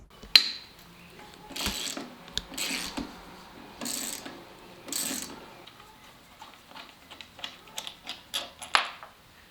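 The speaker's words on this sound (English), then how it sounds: "First step is to remove the large OEM bolts that are on each side" Large OEM bolts come out of a motorcycle's crash bar mounts, heard as a series of close ratchet clicks and metallic ticks in irregular bursts with short pauses between them.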